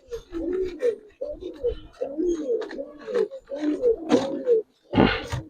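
Pigeons, including a just-released female, coo close by in repeated throaty, rolling bursts, several overlapping calls with brief pauses and a sharp flutter of wings near the end.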